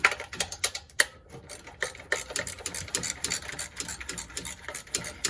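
A ratcheting box wrench turns out a starter bolt on a 1990 Ford Thunderbird, giving rapid, close metallic clicking in quick uneven bursts with brief pauses between strokes.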